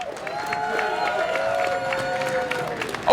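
Rally crowd outside the Department of Justice in Washington, DC applauding and cheering for Julian Assange, a steady wash of clapping and shouts sustained throughout, moderately loud and close, with a louder burst at the very end.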